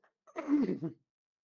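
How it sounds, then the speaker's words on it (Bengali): A single short, close cough with a rough throat-clearing edge comes from a person during an electrical engineering lecture, alone in an otherwise silent room. "সরি, দাঁড়ান আমি একটু ভালো মতো কেশে নেই।"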